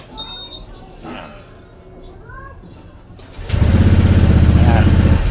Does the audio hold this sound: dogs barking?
no